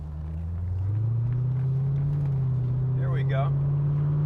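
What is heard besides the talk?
1989 Chevrolet Corvette driving and shifting gears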